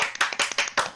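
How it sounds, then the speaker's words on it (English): Sparse claps from a small live audience cue the start of a home cooking show, roughly five distinct bursts in one second, close and sharp with no talking over them. "I need my live audience applause before I can start."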